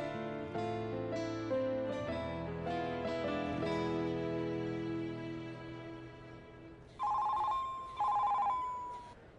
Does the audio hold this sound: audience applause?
no